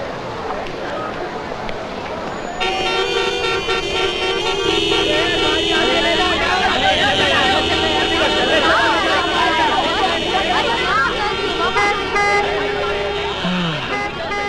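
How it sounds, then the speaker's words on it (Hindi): Busy city street traffic with car horns honking repeatedly, loud and continuous, with several overlapping toots and vehicle noise filling the scene. "कमाल का ट्रैफिक है शहर का"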